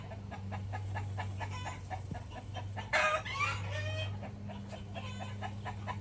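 Backyard hens clucking loudly while one lays an egg, a close chorus of repeated rhythmic clucks with a louder squawking outburst partway through, over a low steady hum.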